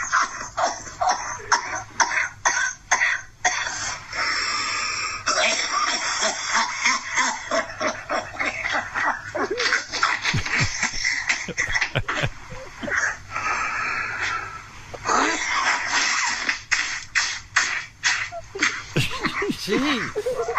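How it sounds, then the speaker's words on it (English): A man coughs again and again while blowing his nose at the same time, in harsh, snorting bursts that come close together. People talk and laugh around the coughing. "Then he starts blowing his nose in the middle of coughing."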